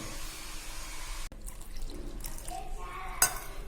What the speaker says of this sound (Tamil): நான் நார்மலாக வந்து தண்ணி மட்டும் போட்டு நான் இதை மிக்ஸ் பண்ணிக்கிறேன்